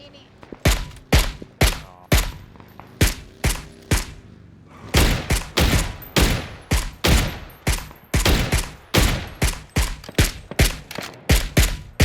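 Gunfire in PUBG: Battlegrounds, a long series of loud, sharp single shots and short clusters with brief gaps, ringing with echo, while players talk in the background.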